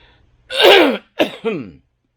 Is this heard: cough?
yes